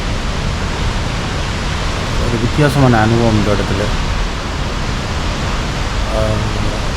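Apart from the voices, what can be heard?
waterfall rushing down onto rocks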